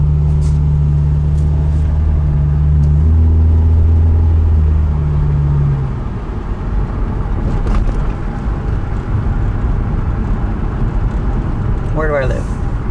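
A car engine fitted with an aftermarket intake hums in a loud, steady low drone, then gives way to rushing wind-like driving noise, with someone talking over it.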